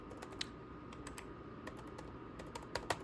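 Keystrokes on a computer keyboard at a command prompt on an old Windows NT 3.1 build, a scattered run of light clicks with a few sharper taps near the end, close and fairly quiet over a steady background hiss.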